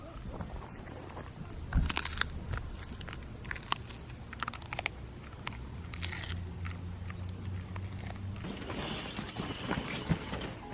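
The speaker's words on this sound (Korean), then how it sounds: "마스가 또 저 밥 먹는 거 잘 기다려줬으니까 마스 간식을 줘볼게요" A dog crunches a hard treat at a pet-friendly campsite, giving irregular close chewing and crackling bites with clicky snaps over a steady outdoor background.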